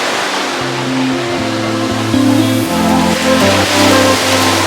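Sea waves at Anjuna beach in Goa roll in as a steady broadband roar of surf, with a low droning hum running underneath throughout.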